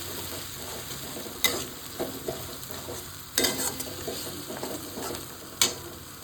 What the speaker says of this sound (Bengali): দিয়ে সমস্ত কিছু ভালো করে একটু কষাবো